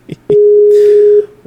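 A telephone busy signal sounds after a conference call is cut off: one loud, steady electronic tone lasting nearly a second, with faint clicks before and after it.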